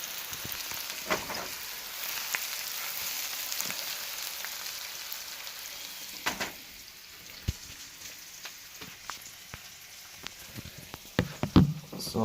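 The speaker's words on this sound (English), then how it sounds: "The sizzle." Chopped vegetables for Philly cheese steaks frying in a hot pan, giving a steady soft sizzle and crackle with scattered sharper pops that grow busier toward the end, heard fairly close with no talking.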